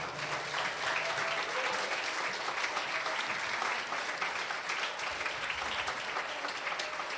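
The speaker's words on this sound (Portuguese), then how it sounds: "Aplauda o Senhor." Sustained applause from a church congregation, dense and even clapping continuing throughout at a moderate distance.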